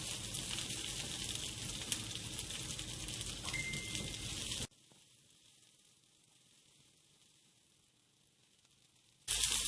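Garlic frying in oil until brownish gives a steady, loud sizzling hiss that drops abruptly to a faint, quieter hiss midway, then swells loud again just at the end.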